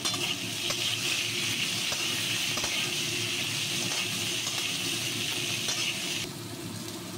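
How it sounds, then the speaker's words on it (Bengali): Pumpkin, potato and vegetable stalks fry in oil in a pan for a mixed vegetable curry, a loud continuous close sizzle with occasional stirring scrapes, easing slightly near the end. "কুমড়ো আলুর সঙ্গে ডাঁটাগুলো দিয়ে নিচ্ছি। হালকা করে ভেজে নেব।"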